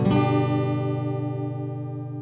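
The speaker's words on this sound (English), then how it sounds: "what that chord would sound like if we weren't in tune" A single strummed acoustic guitar chord, played out of tune, rings out and slowly decays, its notes slightly clashing with a wavering, beating sound.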